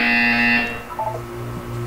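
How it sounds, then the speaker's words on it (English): A loud sustained electronic buzzer tone from the Portal 2 video game rings for about half a second and then cuts off, followed by quieter tonal game sounds and a soft low hum. "You will hear a buzzer."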